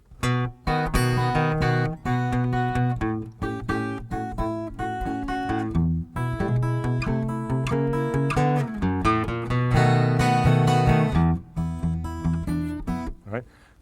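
Fingerpicked acoustic blues guitar turnaround with bass notes and descending chord movement, resolving at the end; played up close with no voices.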